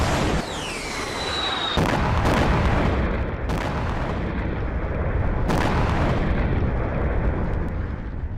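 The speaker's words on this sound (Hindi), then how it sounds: "इसलिए इसी वेडिंग हॉल को उड़ा दिया गया, मिसाइल दागी गई" A missile strike on a wedding hall in Gaza: loud, sustained rumbling blast with several sharp cracking bursts and a brief whistling streak early on, dense and close.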